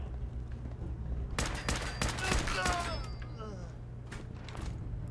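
Rapid bursts of gunfire from a firefight with gunners in Fallout 4, sharp cracks clustered in the middle of the stretch over a steady low hum, fairly close and loud, with a voice speaking in between.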